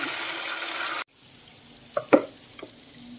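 Fish are rinsed under a running tap for fish-jom preparation: a steady stream of water flows for about a second, then cuts off, followed by a few small splashes and knocks.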